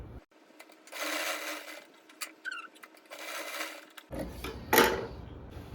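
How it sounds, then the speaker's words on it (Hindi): Sewing machine stitching the seam of a pant piece in short runs, with bursts of rapid needle clatter separated by brief pauses and some handling clicks, fairly close and clear. "अब हमने यहाँ से यहाँ से यहाँ तक सिलाई लगानी है।"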